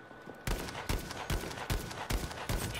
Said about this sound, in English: there's someone on the opposite ravine shooting